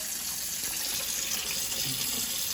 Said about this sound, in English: I just pour some water here